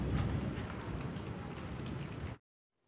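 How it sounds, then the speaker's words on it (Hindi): Steady, moderate rain falls continuously for over two seconds, a dense close hiss with some thunder possible in a stormy setting, then cuts off abruptly into silence. "बारिश हो रही है बहुत ही ज़्यादा, ज़्यादा तेज़ नहीं हो रही, धीरे धीरे हो रही है"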